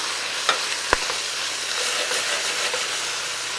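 Wood ear mushrooms seasoned with soy sauce and pepper are stir-fried in a pan, giving a steady close sizzle with a couple of sharp utensil clicks early on and no talk.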